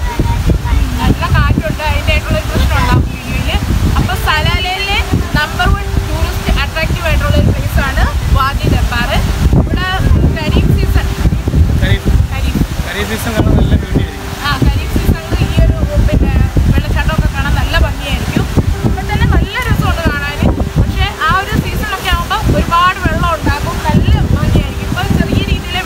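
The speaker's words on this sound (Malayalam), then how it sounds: "നല്ല കാറ്റടിക്കുന്നു" Strong wind buffets the microphone at Wadi Darbat near Salalah, a constant loud rushing roar that persists throughout while someone talks over it.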